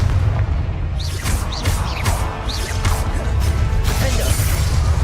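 Explosive Confringo spell blasts go off in the Hogwarts Legacy game, a series of booming crashes and bursts over a rumbling low background, loud and repeated in quick succession.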